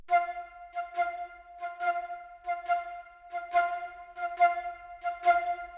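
Flutes play short, very detached staccatissimo notes alone in a song mix, sounding as a bright, repeated rhythmic pattern of clipped pitched tones with brief gaps between bursts, moderately loud and with no talking.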